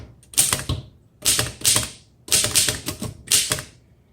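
An antique 1913 Royal 5 typewriter types in bursts of rapid, crisp key strikes. Each clattering group is separated by short pauses, loud and close, with no voices.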